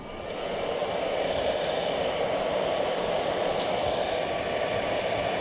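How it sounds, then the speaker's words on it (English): A handheld heat gun blows a steady, loud broadband whoosh close to the mic, shrinking heat shrink tubing over a solder joint on an RC model wire, running continuously without talk. "And you take a heat gun."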